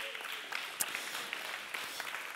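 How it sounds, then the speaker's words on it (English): A church congregation breaks into applause, a soft, fairly distant wash of clapping with a few sharper claps standing out. "Yeah, you can clap for that."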